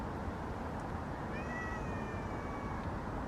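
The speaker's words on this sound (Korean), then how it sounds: "지금 고양이가 두 마리가 있어요" A cat meows once in a drawn-out, rising-then-falling call over steady broadband background noise; no talking.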